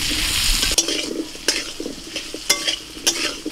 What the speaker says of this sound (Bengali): এবার আলুটা ভেজে নিচ্ছি।